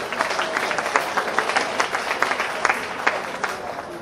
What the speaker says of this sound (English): Give him a clap.